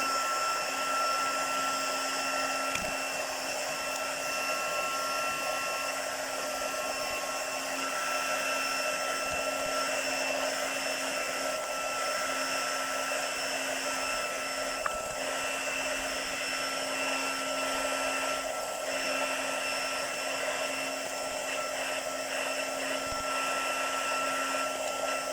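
A hair dryer blows steadily for about 25 seconds to dry ink on craft paper, making a constant moderate whirring hum with a fixed tone and no speech over it.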